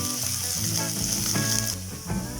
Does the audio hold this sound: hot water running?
no